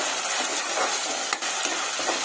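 Ginger paste fries in a pan with a steady, close sizzle and hiss, broken by a few brief scraping stirs.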